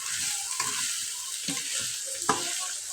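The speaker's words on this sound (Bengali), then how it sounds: "মিশিয়ে নিব আর চালটাকে একটু বাদামি কালার করব" Rice being stirred and browned in a pan, with a steady bright sizzle and irregular scraping stirs, including sharper clacks at about half, one and a half and two and a quarter seconds; close and without speech.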